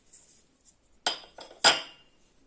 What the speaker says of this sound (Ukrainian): Так, я зараз це вийму ложкою.